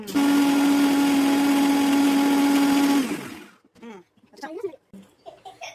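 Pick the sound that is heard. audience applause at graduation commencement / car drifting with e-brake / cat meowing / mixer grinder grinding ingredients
mixer grinder grinding ingredients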